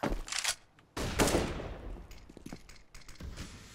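Gunfire in a first-person shooter game, with loud close bursts of shots followed by fainter scattered reports and thuds.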